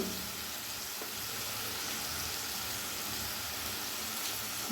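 Ground spice paste fries in a pan for an omelette curry made with boiled potatoes and raw eggs, giving off a steady, even sizzle that holds throughout with no one speaking.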